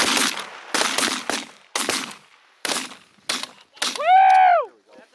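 A string of about six loud shotgun blasts rings out one after another on a snowy mallard duck hunt, each ending in a short tail. A drawn-out wavering call follows at the end.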